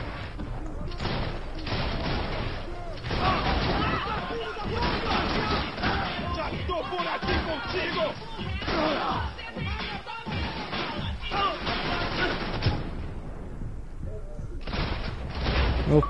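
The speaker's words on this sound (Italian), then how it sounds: "A questo gli sparo in testa." Gunfire from the video game Max Payne 3 fills the whole span: dense, continuous volleys of shots at steady high loudness, broken only by a brief lull near the end before more firing resumes.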